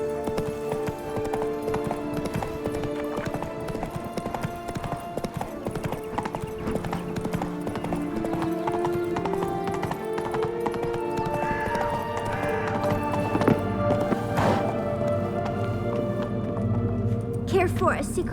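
Horse galloping in The Witcher 3 Blood and Wine, steady rapid clip-clop hoofbeats throughout with an occasional whinny, under game music and character speech.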